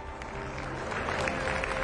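A crowd at a summit event in Madhya Pradesh applauds with dense, steady clapping that builds slightly, with a voice faintly audible underneath.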